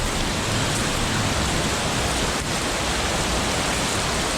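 Heavy rain pours steadily beside a creek with a gravel bank, a dense, constant roar of falling water that stays loud and unbroken throughout.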